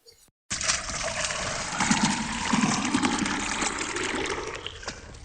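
Water pours in a steady, continuous splashing stream that runs for several seconds after a short quiet moment.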